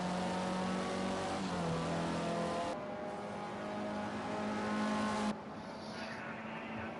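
Indy Lites race car in a sim racing game at Road America, its engine droning steadily with harmonic whine, pitch shifting as it changes gear, then the note drops and fades after about five seconds.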